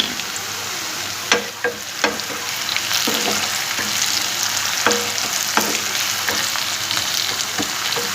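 Cumin seeds fry in hot oil with a steady close sizzle, broken by scattered sharp pops and a few clinks, with crushed chili added.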